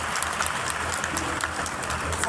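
Applause from a crowd at a tribute to teachers, dense and continuous clapping at an even level throughout, with some murmur underneath.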